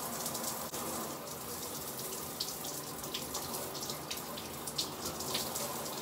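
A cold shower runs steadily in a home bathroom, a dense, even hiss of spraying water with no pauses, close and moderately loud throughout.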